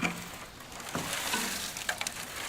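Loose rust rattles and shifts inside a 1980 Datsun 200SX steel fuel tank, a soft gritty patter like a rain stick with a few sharper clinks as it is tilted.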